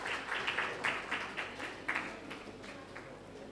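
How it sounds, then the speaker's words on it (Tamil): Audience applause at an academy cohort ceremony, soft and somewhat distant, a steady patter of many hands with small surges, no voices over it. "உங்கள் கரகோஷங்கள் மூலம் இவர்களை ஆர்வப்படுத்துமாறு தாழ்மையோடு கேட்டுக்கொள்கிறேன்."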